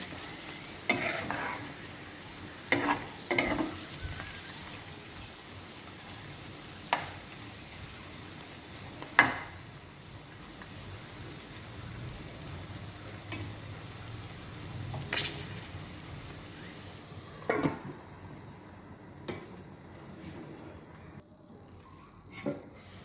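Chicken liver and heart fry in a pan with a low, steady sizzle, broken by several sharp pops and stirring clatters spaced a few seconds apart.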